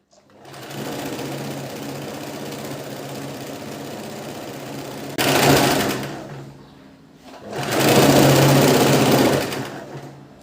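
A close sewing machine stitches a folded belt strip for a princess-cut blouse, humming steadily for several seconds, then running faster and louder in two surges with a brief lull between.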